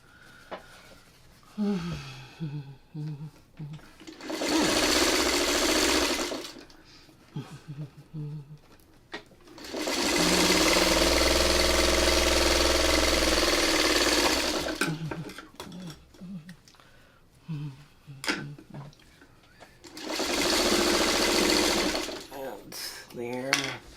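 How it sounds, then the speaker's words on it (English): Three sustained bursts of a sewing machine stitching solid quilt pieces into snowball blocks, each a loud, even mechanical hum lasting a few seconds, with a person talking in the gaps between runs. "you're sewing it to another solid piece"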